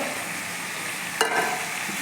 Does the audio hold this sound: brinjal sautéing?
yes